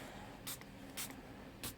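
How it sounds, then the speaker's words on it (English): Three short, soft hisses from a spray bottle misting a homemade turquoise color wash onto an art journal page, evenly spaced and quiet. "I'm going to go back in with my homemade turquoise color wash, and I'm going to spray that."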